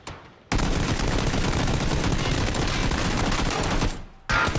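Dense, loud gunfire from the video game Chicken Winners, a continuous burst of rapid shots that fills about three and a half seconds, then breaks off briefly before another burst starts.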